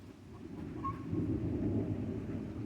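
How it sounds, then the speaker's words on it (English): A low, continuous rumble of distant thunder swells gradually and rolls on without a break, with no voices. "Yep, thunder is coming."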